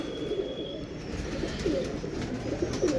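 Pigeons coo close by, giving several soft, rolling coos at irregular intervals over faint background hiss, with no talking.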